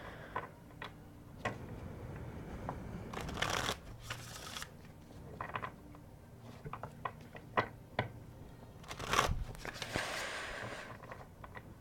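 Repeated riffling bursts of a deck of cards being shuffled sideways, crisp clicking patters close by, with short pauses between shuffles and no talking.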